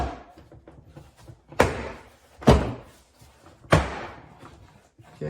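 A door panel on a Lexus RX350 being pried off, its retaining clips popping loose in three sharp, loud snaps spaced about a second apart, with quieter rustling and tapping between them.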